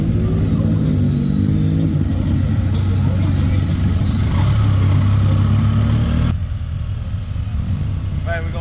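Several motorcycles idle and rev together at an outdoor community event in Memphis, a loud, continuous engine drone close by with people talking over it.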